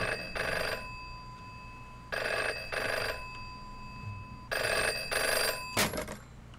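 A telephone rings in the video game Ghost Dance, three paired bursts of an old-style bell ring at a steady rhythm, fairly quiet over a low background hum.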